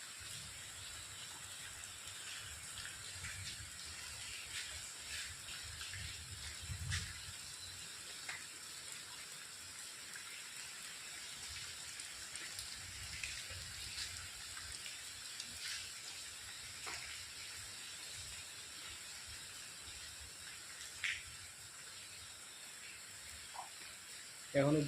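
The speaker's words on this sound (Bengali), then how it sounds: "এখনও বৃষ্টি পড়ছে, ঝপঝপ ঝপঝপ ঝপঝপ করে" Heavy rain pours from a clouded sky in a steady, even hiss that runs unbroken throughout, fairly faint and distant, with no clear voices over it.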